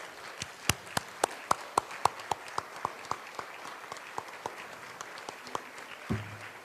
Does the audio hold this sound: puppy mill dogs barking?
no